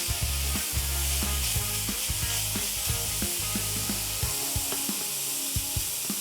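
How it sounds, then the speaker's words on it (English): Chopped bacon sizzles in a skillet for a BLT pasta: loud, dense crackling and spitting fat goes on continuously, with low thuds and scrapes mixed in. "we'll just get that going into our skillet. And we're gonna cook that down until it's nice and crisp."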